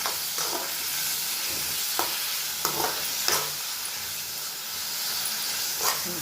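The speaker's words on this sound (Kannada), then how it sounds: "ನೋಡಿ, ಚೆನ್ನಾಗಿ ಫ್ರೈ ಆಗ್ತಾಯಿದೆ" Eggplant frying in oil in a pan, a steady hissing sizzle with occasional sharp scrapes and clinks of stirring scattered through, close and moderately loud, with no talking.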